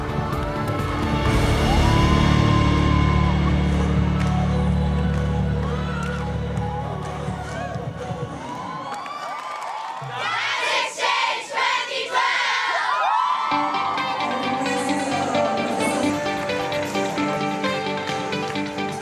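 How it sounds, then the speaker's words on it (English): A large hall crowd at a multi-day dance festival roars with cheering, shouting and applause, loud and sustained at first, dipping briefly in the middle before swelling again amid festive music. "The large hall was roaring with thunderous applause,"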